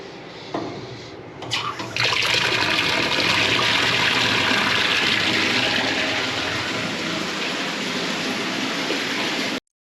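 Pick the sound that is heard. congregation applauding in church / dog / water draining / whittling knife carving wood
water draining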